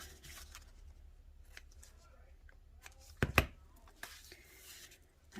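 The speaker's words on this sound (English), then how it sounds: "My ribbon scissors." Ribbon scissors snip through ribbon once, a short, sharp close cut amid quiet handling and rustling of papercraft materials.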